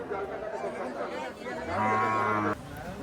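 A cow lets out one loud, drawn-out moo close by at a cattle market, rising above a steady murmur of crowd chatter and general bustle.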